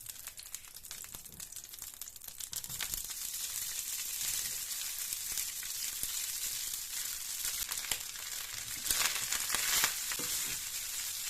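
Boiled rice stir-fried with vegetables in a pan for Chinese fried rice, giving a continuous close sizzle with crackling and rustling stirring that grows louder after the first few seconds and swells briefly near the end.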